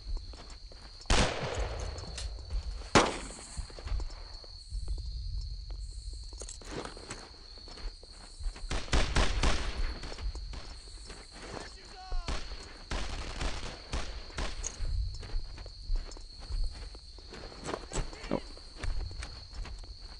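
Gunfire in the World War II shooter game Brothers in Arms: Earned in Blood, with scattered sharp shots and bursts over a steady hiss and rustling movement.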